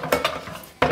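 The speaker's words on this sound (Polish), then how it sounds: "Wyjmę tylko garnek." A cooking pot is taken out in a home kitchen, giving a few sharp metallic clanks and knocks spaced through the moment, close and fairly loud with no talking.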